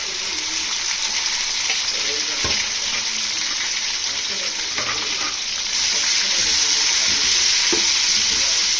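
Ginger, onion and coriander paste frying for mutton biryani with Chitti Muthyalu rice, a steady loud sizzle running throughout with occasional stirring scrapes, growing slightly louder in the last few seconds.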